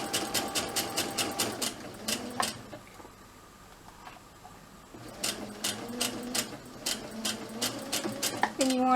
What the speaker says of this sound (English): let it go through the foot, move your hand. And then just keep on sewing.